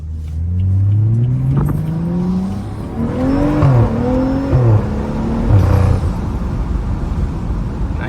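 A BMW F30 335i rear-wheel drive car engine revs hard and pulls away, its pitch climbing through the gears, loud and close, with brief dips between shifts.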